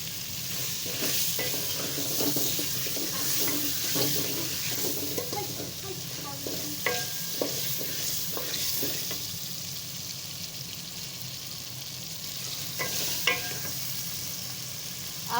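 Potatoes fry with cumin seeds and dried coriander in a pan, giving a continuous close sizzle broken by scraping stirs and occasional sharper crackles.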